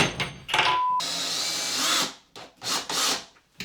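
A power drill drives screws in several short bursts, spinning up and stopping repeatedly, with one longer run in the middle, while installing IKEA cabinets; close and fairly loud.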